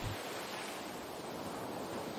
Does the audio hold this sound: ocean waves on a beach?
yes